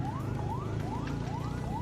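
An ambulance siren passes on a mountain road toward Puncak, Bogor, during a morning scooter ride. It wails in repeated rising sweeps about every half second, loud and steady over a low rumble of wind and engine.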